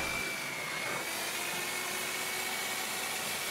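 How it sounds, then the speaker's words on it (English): A power sander fine trimming the edge of a wooden strip on a camping catamaran centerboard case, giving a loud, steady, whirring roar that runs unbroken with no talk. "I fine trim the edge with the sander"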